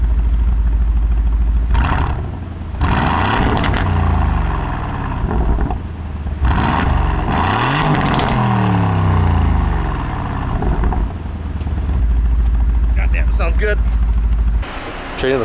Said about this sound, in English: We need one more rev clip before we sell her.